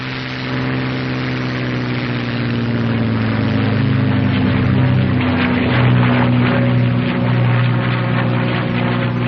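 A North American P-51 Mustang's piston engine roars steadily during takeoff, a loud droning buzz with harmonic hum that swells slightly in the middle and holds close.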